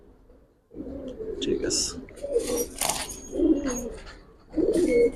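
Bagha pigeons coo in repeated low, throaty bursts close by, while people talk over and between the calls.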